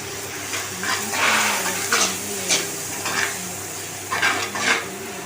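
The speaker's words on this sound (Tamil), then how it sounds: "இது வந்து நல்லா வதங்கி வரணும்." Onion-and-spice masala stirring and sizzling in hot oil for a sankara fish curry, a steady soft fry with intermittent scrapes of a spoon against the pan, close and without talk.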